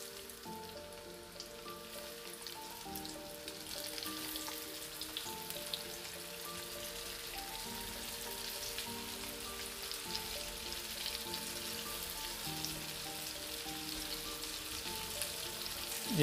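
Eggplant köfte frying in hot oil, a soft continuous crackle and sizzle with tonal chanting faintly in the background, no speech.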